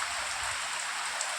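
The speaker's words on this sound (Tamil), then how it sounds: "செம்ம மழை பெய்யுதுங்க." Heavy rain pouring steadily, a dense even hiss of falling drops with no pauses, alone without talk.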